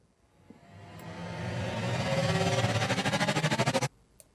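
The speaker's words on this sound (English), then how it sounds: "Here's a mid stutter." A mid stutter effect from Risenge Pro swells from quiet into a textured rumble, then breaks into rapid, evenly pulsed repetitions that speed along before cutting off abruptly, followed by a few faint ticks.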